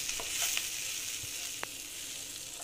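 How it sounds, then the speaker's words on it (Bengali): Oats frying in a pan give a steady, close hiss and sizzle, with a few soft scrapes as they are stirred, and no voices. "এইভাবে আবার একটু ভেজে নিচ্ছি ওটসটা দিয়ে।"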